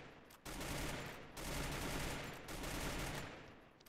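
Gunfire in the Free Fire video game comes as three dense bursts of rapid automatic shots, each lasting about a second with short gaps between them. The shots are fairly quiet and play without any talking.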